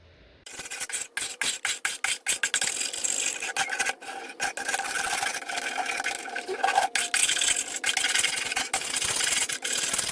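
Steady rough scraping and rasping as old paint is scratched off wood, quick repeated strokes in an irregular rhythm, close and fairly loud with no voices.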